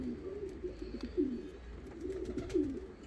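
A young yellow Japanese fancy pigeon cooing, soft repeated throaty coos in short rolling phrases, close and quiet against a faint background.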